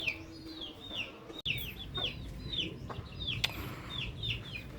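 Several hens cluck repeatedly in short, bright calls close by, over a low background rumble, with one sharp knock partway through.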